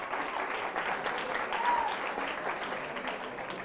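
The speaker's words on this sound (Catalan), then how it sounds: "continuem jugant, l'aplaudim, l'aplaudim, l'aplaudim" A studio audience applauds a contestant during a word game show, a continuous, moderately loud patter of clapping that holds steady throughout.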